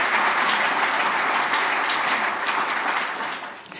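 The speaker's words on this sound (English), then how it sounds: "let's give Chris a round of applause" Dense, steady audience applause at a civic forum on women of color in the League of Women Voters, a full crowd clapping loudly and evenly before thinning slightly at the end.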